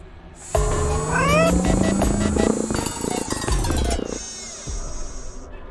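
Robotic cat in the Nancy Drew game Shadow at the Water's Edge, a loud electronic meow with warbling, rising tones over a steady high whine, followed by a shorter second call.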